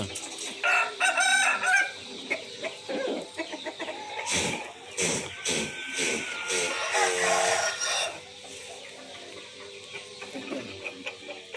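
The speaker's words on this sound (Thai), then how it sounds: "ลูกไก่อ่อนเด้อ" Chicken calls ring out several times, with harsh, rasping crow-like cries and clucks close by, fading to quieter background noise toward the end.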